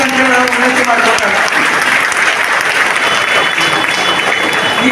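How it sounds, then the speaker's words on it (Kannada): An audience at a National Weavers' Day gathering claps loudly and steadily for the full five seconds, a dense, even wash of applause close by. "ಎಲ್ಲರೂ ಚಪ್ಪಾಳೆ ತಟ್ಟು ಒಪ್ಪಿಗೆ ನೀಡಬೇಕಂತೇಳಿ ನಾವು ವಿನಂತಿ ಮಾಡ್ಕೊಳ್ತೇವೆ"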